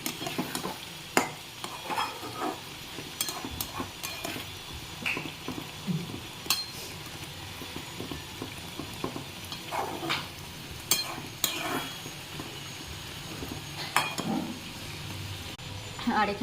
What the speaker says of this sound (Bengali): এখানে হচ্ছে চিকেনের হচ্ছে মাংস, মানে মশলাটা কষা হচ্ছে।